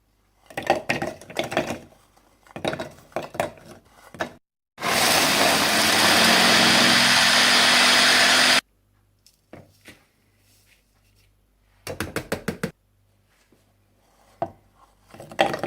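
Biscuits being ground in an electric food chopper: short rattling pulses, then a steady loud whirring run lasting a few seconds, followed by more brief bursts, heard alone without talk.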